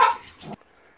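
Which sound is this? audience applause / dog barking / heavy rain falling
dog barking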